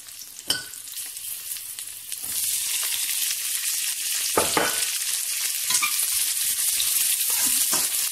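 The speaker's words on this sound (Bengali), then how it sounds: "এটাকে 2-1 মিনিট রাখার পর এটাতে আমি আমার পেঁয়াজ কুচিটাও দিয়ে দেব।" Chopped onion sizzles in a pan with beef, a few stirring clatters at first and then a steady, loud frying hiss that grows fuller and keeps going.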